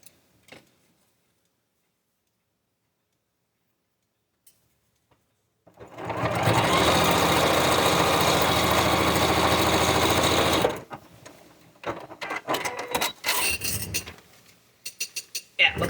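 After near silence, a sewing machine stitches fabric under the needle in one continuous loud burst of about five seconds, followed by scattered handling clicks and rustles of the fabric close by.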